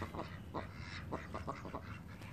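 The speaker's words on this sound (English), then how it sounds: "they're crossing the road like ducks usually do" Ducks crossing a road quack in a quick scattered series of short, fairly faint calls over steady outdoor background noise.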